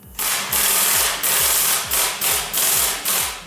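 An AIRCAT 1778-VXL 3/4-inch pneumatic impact wrench loosens a seized bolt in about six loud, close hammering bursts, each a harsh rattling blast in quick succession with brief gaps between trigger pulls.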